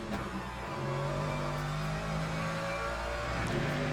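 A GT3 race car in Le Mans Ultimate gives a steady, sustained engine drone that climbs gradually in pitch under acceleration, loud and continuous with no speech over it.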